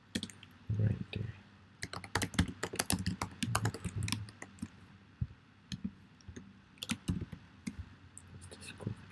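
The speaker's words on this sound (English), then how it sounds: "Sorry for my slow typing." Someone types on a computer keyboard in bursts of quick clicking keystrokes with short pauses between, close and crisp, with occasional low voice sounds underneath.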